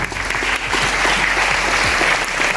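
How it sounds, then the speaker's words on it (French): An audience at a conference applauds, dense, steady clapping from many hands filling the whole stretch, close and loud, with no speech over it. "Je pense que ça mérite un applaudissement. Applaudissez-vous."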